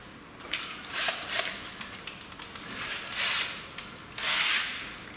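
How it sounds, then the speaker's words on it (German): A cordless drill fitted with a larger bit bores out pop rivets on the door of a Dacia Sandero Stepway II, sounding in several rising, whining bursts of grinding at slow speed, fairly quiet and without talk. "Wir brauchen einen etwas größeren Bohrer. Und wir brauchen einen Akkuschrauber."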